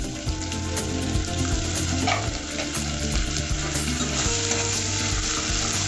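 Curry leaves and ginger garlic paste fry in hot oil for a vegetable gravy, giving a loud, dense, continuous sizzle with crackling spatters throughout, close to the pan.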